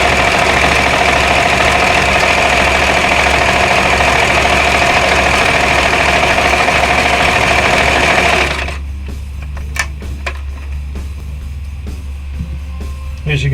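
A sewing machine runs steadily and loudly while stitching the edge of a Harbor Freight wool blanket underquilt, a continuous close mechanical whir that stops abruptly, leaving faint clicks and handling noise.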